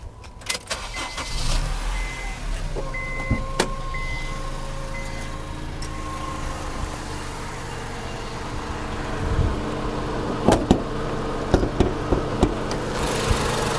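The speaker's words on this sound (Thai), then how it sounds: "เดี๋ยวผมลองสตาร์ทฟังเสียงเครื่องยนต์ดูนะฮะ" A 2010 Honda CR-V with the 2.0 engine cranks and starts, then settles into a steady idle with a faint whine and a few clicks and knocks from the engine bay, heard up close with no talking.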